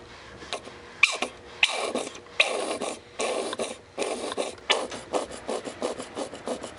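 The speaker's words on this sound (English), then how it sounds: "Now I'm going to pump the shock." Motorcycle fork shock absorber pumped by hand to drain decades-old fork oil, giving a series of repeated rasping, squelching strokes in a steady rhythm, close and moderately loud, with no talking.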